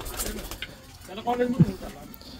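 A pigeon coos softly a couple of times close by, with people chatting nearby in the background at a pigeon sale.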